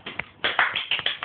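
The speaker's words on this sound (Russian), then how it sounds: "Андрюша, аплаузи. Хлопай ручками," Hands clap in an irregular run of about a dozen close, sharp claps, some uneven and overlapping, as children in a home setting join in.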